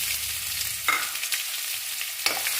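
Sliced onions sizzle in hot oil in a pan while a potato fry is cooked, a bright steady hiss with sharp crackling bursts as the pieces are stirred.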